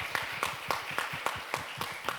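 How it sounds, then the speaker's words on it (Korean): An audience at a Korean charity forum event applauds in an even, rhythmic clapping pattern, about four claps per second, moderately distant and steady. "여러분 박수 한번 보내주시기 바랍니다."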